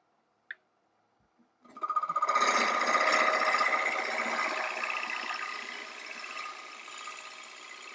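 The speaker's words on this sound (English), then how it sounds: "Now let me make a supported cut to clean that up." A bowl gouge makes a supported cut on a spinning wood lathe: a brief click, then a sustained, close, rough scraping whir that rises quickly and slowly eases off.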